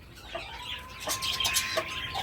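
A few short clucks from a Brahma hen close by, brief and spaced out over a faint background hum.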